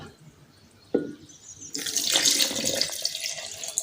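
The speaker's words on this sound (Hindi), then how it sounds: "इसमें अब हम डालेंगे पानी का 1 कप।" A cup of water poured into a kitchen grinder jar while preparing an orange recipe: a short clink, then a loud, steady gushing pour that fills the rest of the clip.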